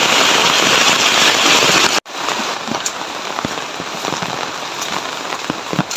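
Steady heavy rain pours onto surfaces outdoors during a rural rainstorm near a garden, a dense continuous hiss with a brief cut partway through and scattered sharp drop impacts afterward.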